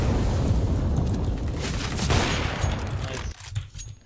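Gunfire rattles in CS:GO, a continuous dense stretch of shots and booms that cuts off abruptly near the end, leaving a few softer thuds.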